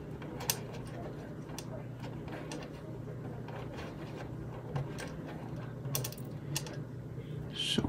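A screwdriver turns out the small M.2 screw inside a PS5 console, quiet close ticking and clicking taps scattered over a low steady hum, with faint rustling handling noises.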